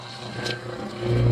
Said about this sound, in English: The engine has been sputtering, stalling out.